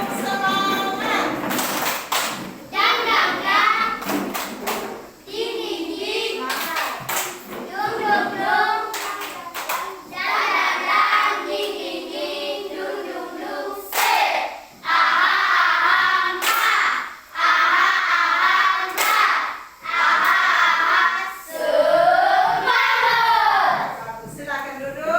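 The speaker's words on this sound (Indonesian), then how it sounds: "Tepuk semangat." Schoolchildren in a classroom doing a rhythmic spirit clap, bursts of patterned hand claps alternating with loud group chanting and children's voices, repeated in several rounds.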